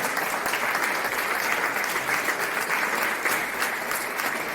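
Steady applause from a sizable crowd as a deputy's re-election result is announced, dense clapping held at an even level throughout.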